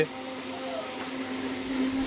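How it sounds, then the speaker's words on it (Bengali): A mixer grinder whirs steadily as it grinds spices in a busy bulk-cooking kitchen, a constant motor drone with a rising pitch toward the end, faint voices in the background. "এদিকে মিক্সচার মেশিনে মশলা করা হচ্ছে।"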